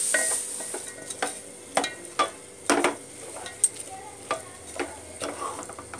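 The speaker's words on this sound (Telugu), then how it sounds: "టమాటా ఇవి వేసే ముందు ఈ ఉల్లిపాయ ముక్కలు బాగా ఫ్రై అవ్వాలి." Onion pieces frying in a pan for tomato pulao, with a steady sizzle under repeated spatula scrapes and taps against the metal, close and moderately loud, no voices.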